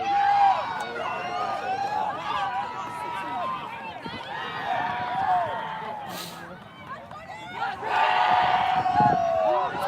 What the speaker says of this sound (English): For those of you who hear all the cheering